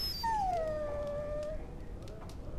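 In Dragon Age: Origins, a dog lets out one long, falling whimpering whine that fades into a soft close whimper over low background rumble, with no talk.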